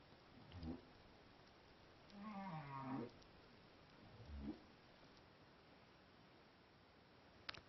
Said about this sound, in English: This is the sound of a humpback whale singing to get a mate.